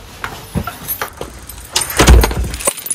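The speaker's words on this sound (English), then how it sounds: "Let me lock the door, yeah?" A ring of keys jangles loudly up close as a door is locked, with metallic rattles and the clunk of the lock turning over several seconds, and no talking.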